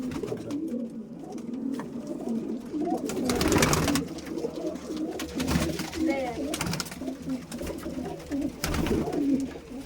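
Pigeons kept for pigeon flying coo repeatedly at close range, soft throaty calls overlapping in a loft, with a few louder bursts of movement in between.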